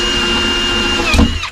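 A power drill whines steadily and loudly as it bores into a shuttle bus door to fit a deadbolt, with a brief rattling jolt near the end before the motor winds down.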